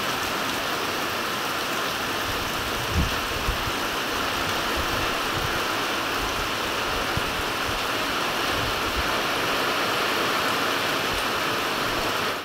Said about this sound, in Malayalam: നല്ലൊരു മഴയങ്ങ് തുടങ്ങി കേട്ടോ